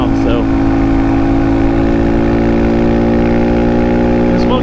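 A Honda Monkey 125 motorcycle with a stock exhaust runs steadily and close by in the open countryside, an even, loud engine drone with no breaks, while someone talks over it.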